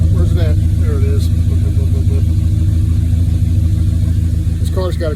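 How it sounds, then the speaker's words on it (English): A 1964 Chrysler with a rebuilt Edelbrock carburetor runs steadily, its engine and exhaust making a loud, continuous low rumble, with voices talking briefly at the start and end. "probably get a sweet sound of that exhaust."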